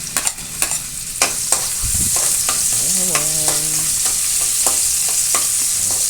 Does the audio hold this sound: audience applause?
no